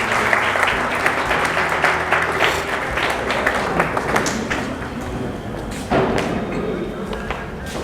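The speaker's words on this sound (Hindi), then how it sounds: "तालियां बजती रहनी चाहिए।" An audience at a college Makar Sankranti 2021 event applauds as someone is honoured on stage. The clapping is sustained and fairly loud, punctuated by a few thuds and knocks, with voices talking underneath.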